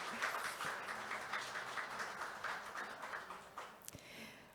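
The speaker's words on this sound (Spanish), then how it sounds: "pido un aplauso para ella" Faint, distant applause from an audience after a lecture on the railway in San Juan, a soft, even wash of clapping held for several seconds.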